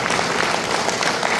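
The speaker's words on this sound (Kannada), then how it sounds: "ನಿಮ್ಮೆಲ್ಲರಿಗೂ ನಿಮ್ಮ ಜೋರಾದ ಚಪ್ಪಾಳೆ ಮೂಲಕ ಧನ್ಯವಾದಗಳು" An audience breaks into loud, dense applause, many hands clapping steadily and close throughout.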